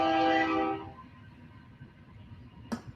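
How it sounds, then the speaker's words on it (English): A railroad train horn played back from a small device, one sustained chord-like blast that sounds for about a second and then cuts off, leaving faint room noise and a brief click. "Can you hear my little railroad horn?"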